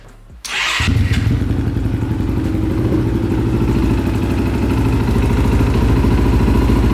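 A KTM EXC 530 supermoto engine starts with a thud and then runs steadily, a loud, close, throbbing idle with a dense pulsing rhythm that holds without letup and no talk over it.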